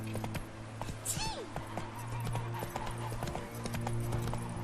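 Horse hooves clip-clopping in The Witcher 3, a steady run of close hoofbeats throughout with a short neigh partway in, over faint game ambience and no speech.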